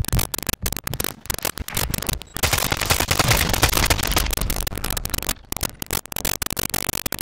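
Call of Duty gunfire crackles in sharp rapid bursts, with a long sustained automatic stretch in the middle and scattered close shots before and after, loud and dense with brief gaps.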